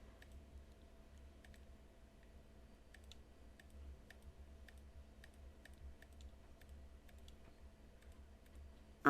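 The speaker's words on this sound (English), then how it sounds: "I clicked again and put my fingers off the mouse. One click, one click, one click" Computer mouse clicking at a desk during Photoshop work, a steady series of single sharp clicks spaced about half a second to a second apart, faint and close against a quiet background hum.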